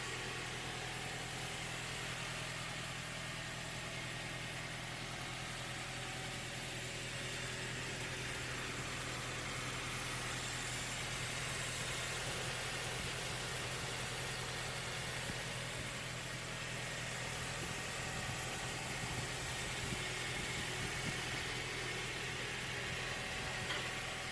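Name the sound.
2004 Toyota Tacoma engine idling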